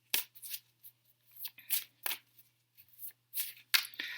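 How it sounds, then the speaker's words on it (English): Tarot cards being shuffled close up in quick, crisp riffles and flutters, separated by short pauses. "So if you don't feel like seeing me shuffle"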